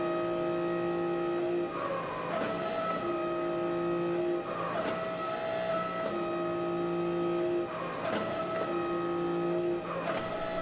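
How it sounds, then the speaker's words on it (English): A 30-ton two-step forging press squeezing hot wrought iron, running as a constant loud hydraulic drone with a steady whine that repeats in cycles and rises in pitch as full pressure engages, no voices. "This is a 30-ton forging press, but it has a 2-step system, so it only gets the full power after a few seconds of pressing"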